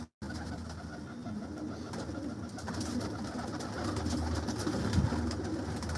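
Female fancy pigeon cooing close by: soft, throaty, continuous cooing and murmuring that stays dense and steady, with no talk.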